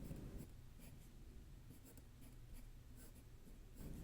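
A pencil scratches kanji onto paper by hand, written right to left, in soft close strokes and short scribbling bursts over a quiet hiss.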